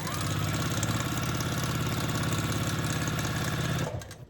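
A sewing machine runs steadily at speed, stitching a quarter-inch seam on quilt block fabric, a continuous fast mechanical whir and rattle up close that stops abruptly near the end.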